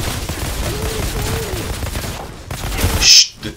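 Rapid gunfire in the Outriders video game, crackling bursts over a noisy battle bed, building to a louder sharp burst near the end before dropping off.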